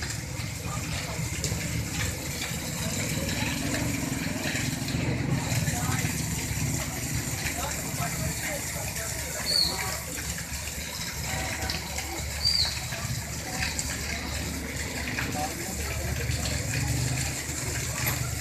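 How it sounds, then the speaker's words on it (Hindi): Heavy rain in Lahore sends rainwater rushing along, a loud, steady broadband rush that carries on unbroken, with a few faint voices mixed in under it. "गाइस देखेंगे पानी कैसे आ रहा है, पानी भी तेज़ है और बारिश भी"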